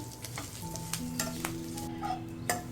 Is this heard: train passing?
no